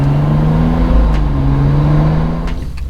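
A BMW fitted with a new intake, in Sport Plus mode, revs hard under acceleration as a loud, steady, close engine drone that holds strong and then eases slightly at the end, with no talking.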